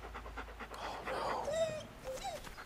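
A devil dog creature in the video game Deadly Premonition pants quietly in short, rapid breaths, joined by a faint whimpering whine.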